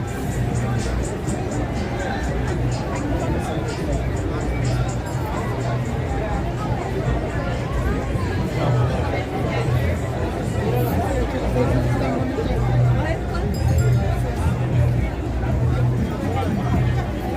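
Dense crowd hubbub in Times Square, New York City: many overlapping voices and footsteps mixed with distant traffic, steady and loud throughout, with no single speaker standing out.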